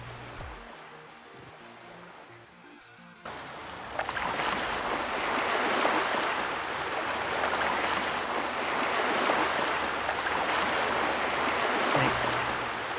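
Loud, steady rushing water in the fantasy game Everquest: Hero's Journey, a broad continuous wash that swells in after a quieter opening and holds at full strength without breaks.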